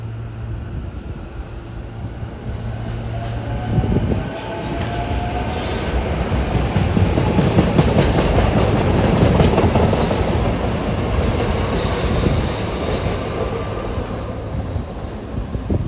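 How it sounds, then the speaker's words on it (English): A single-unit Philadelphia commuter rail car on the old Reading Chestnut Hill branch, bound for Chestnut Hill East, rolls past close by with a steady clickety-clack rumble that builds and lingers for about sixteen seconds. "And this train is headed out to Chestnut Hill East on the old Reading Chestnut Hill branch."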